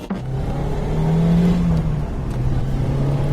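A small Lotus sports car's Toyota 1.8-litre supercharged VVTi engine revs up and holds a high, droning note, then eases off and climbs again, close and loud.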